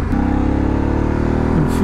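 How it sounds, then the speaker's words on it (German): A Harley-Davidson Pan America 1250 with its 1250 cc twin engine revs loudly and steadily up close, its pitch climbing then dipping briefly at the end, with no talk. "1250 Kubik Twin wie gehabt und ja, er zischt auch ganz ordentlich"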